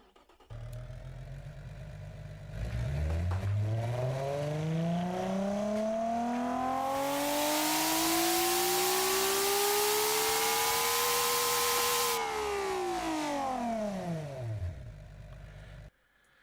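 A turbocharged car engine with a cast iron block, built in the game Automation, revs steadily upward and holds high with a loud hissing turbo rush before winding back down to a stop, heard alone.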